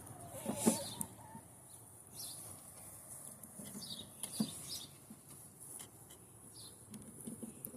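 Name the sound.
chickens clucking and pecking at a tripod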